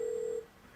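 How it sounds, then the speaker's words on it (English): A single steady telephone tone sounds for a brief moment as someone places an emergency call to 911 from a house during a fire, then cuts off into quiet room noise. "Another friend who was at the house dialed 911."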